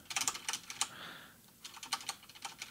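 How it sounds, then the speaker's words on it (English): Rapid bursts of computer keyboard keys struck quickly during a fighting game demo, clustered clicks with a short pause in the middle, close and fairly quiet with no talk. "I'm just not used to hitting keyboard buttons that fast"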